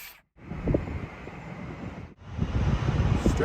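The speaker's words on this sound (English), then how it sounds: "So windy out here." Outdoor wind buffets the microphone in rough, rumbling gusts, with one brief break of quiet in the middle, and no talking.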